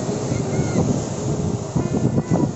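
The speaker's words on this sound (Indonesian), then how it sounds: "kondisi di pantai itu anginnya kencang ya" Strong wind blows across the microphone at Pantai Panjang beach in Bengkulu on a clear late afternoon, a steady broadband roar with gusts that swell and dip, and distant surf likely mixed in.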